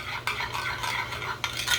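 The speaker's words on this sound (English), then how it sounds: "I'm just going to stir. Nicely stir." A utensil stirs a zucchini casserole in a pot with soft scraping and clinking strokes, close and steady with brief louder scrapes, no talking.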